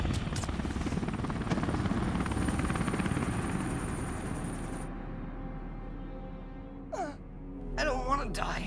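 A steady, loud helicopter rotor drone from the video game Splinter Cell dominates the first five seconds, then fades under quieter gasping and strained voices.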